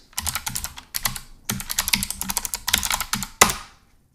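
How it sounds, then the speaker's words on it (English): Close, crisp typing on a computer keyboard, quick bursts of clicking keystrokes separated by short pauses, ending in one firm key strike, with no talking. "we can just type in Meshtactic"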